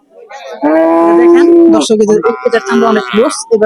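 A young Holstein Friesian bull lets out one long, loud moo nearby at a cattle market, followed by shorter grunting lows and a brief burst of nearby voices.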